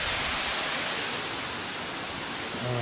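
A small waterfall tucked beneath rocks on a creek trail in the Grand Canyon near Blackheath, a steady broadband rush of falling water heard close and continuous with no voices.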